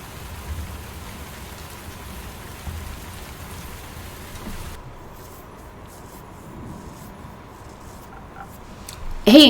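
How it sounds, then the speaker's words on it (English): Steady rain in the video game Tavern Talk, a soft continuous patter that drops slightly quieter halfway through before a brief louder clatter at the very end. "Oh, it's raining again."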